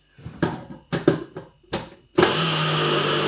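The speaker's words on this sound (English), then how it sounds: "just blend it till it's actually into like a fine flour." Blender grinding ingredients into a fine flour starts abruptly and runs as a loud, steady whir, following a few short knocks and rustles.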